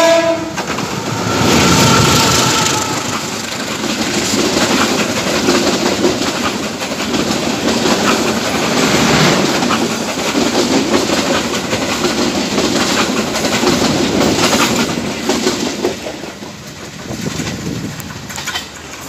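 The Putri Deli passenger train in Indonesia rumbles past close by for a long stretch, wheels clattering rhythmically over the rails, with a horn sounding near the start.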